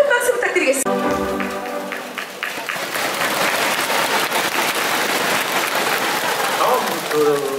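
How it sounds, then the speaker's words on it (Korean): Audience applause at the Daegu citizens' sports festival: a broad, steady wash of many hands clapping that swells in after a brief announcer voice and continues evenly to the end. "큰 박수 부탁드리겠습니다."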